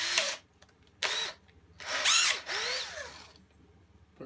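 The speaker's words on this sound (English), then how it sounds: "Put a couple of screws in," A power drill drives short screws into a faceplate ring on a piece of wood for turning a soap dish on a lathe. Several brief, close whirring bursts rise and fall in pitch with short pauses between them.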